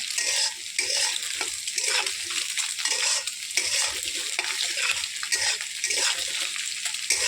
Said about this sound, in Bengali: ডিমটা ভাজা করে নিচ্ছি।